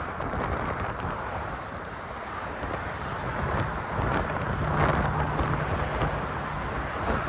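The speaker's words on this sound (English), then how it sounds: "But usually it is kind of windy like this. 10, 15 mile an hour winds." Steady wind roars and buffets on the Golden Gate Bridge on a windy day, a constant loud whoosh of gusts hitting the microphone with no voices.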